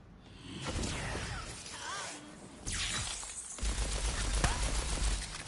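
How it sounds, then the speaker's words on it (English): Rapid gunfire crackles in bursts while shooting sharks in Tiny Tina's Wonderlands, mixed with whooshing effects and squealing creature sounds. The shots grow heavier and denser toward the end. "King Shark's relatives, don't tell him I'm shooting them."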